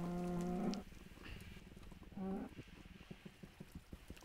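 A cow in Minecraft moos twice, one long low call and then a shorter one, with faint background game sounds and some scattered clicks between them.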